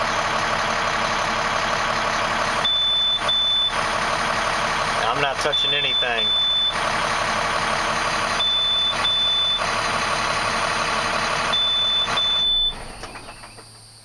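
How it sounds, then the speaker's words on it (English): An International 4300 DuraStar rental truck's engine idles steadily with repeated high beeps, a voice speaks briefly, and near the end the rumble drops away as the truck's automatic fuel-saving shutdown turns it off. "What this truck's about to do is turn itself off."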